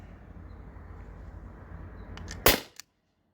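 A T4E HDP50 air pistol fires an 8.4 gram, 12.7 mm steel ball bearing off an air tank with no restrictors: a single sharp, loud crack after a steady background hiss, followed by a brief smaller knock.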